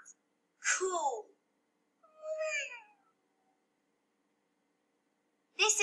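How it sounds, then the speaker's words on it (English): A pet cat named Atomic gives two distinct meows, close and moderately loud, with a pause between them and another sound starting at the end; no speech over them. "this is Atomic, my cat"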